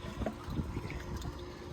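Water gushes and splashes out of an opened pool sand filter during a sand change, a close, steady pouring and trickling sound with no talking.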